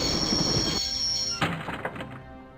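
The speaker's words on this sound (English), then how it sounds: "I always wanted to stop the train." Train brought to a stop in the video game Broken Sword, a loud rumbling run with a high squealing tone that cuts off, followed by several heavy clunks and thuds as it halts.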